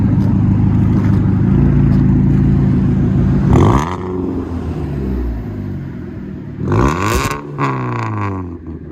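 2016 Ford Fusion SE with a four-cylinder engine and a Cherry Bomb glass pack exhaust, muffler and resonator deleted, 4-inch tip: a steady loud idle rumble, then two sharp revs that rise and fall back, heard up close.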